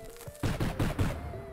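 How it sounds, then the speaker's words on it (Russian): Explosions in the video game UnderMine go off in a quick burst of four punchy, crackling blasts, one after another at a steady rhythm, loud and close, then fade into a low hum. "Это все-таки взрывы"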